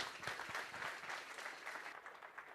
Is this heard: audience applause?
yes